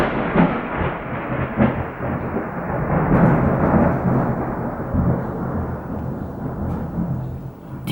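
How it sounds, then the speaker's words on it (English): Deep rolling thunder rumbles continuously for several seconds, a broad low roar that swells and lingers, with no voices present. "that was thunder"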